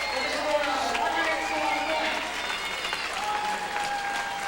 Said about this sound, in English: a good round of applause for their team